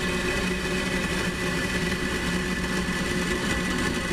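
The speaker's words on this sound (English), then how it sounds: "And a lift off Falcon 9, go USSF-62, go SpaceX." A SpaceX Falcon 9 rocket lifts off on the USSF-62 mission, a continuous, dense, loud roar with deep rumble that holds steady throughout.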